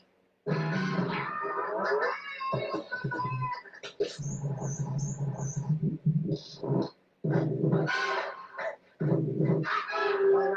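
Small chihuahuas bark in a video game, sharp yappy bursts that repeat through the stretch, loud and close, sometimes with brief growl-like tones mixed in.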